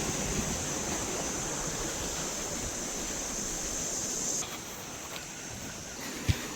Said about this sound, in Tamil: இங்கே பாருங்க கொஞ்சம் கொஞ்சமாக தண்ணியை போட்டு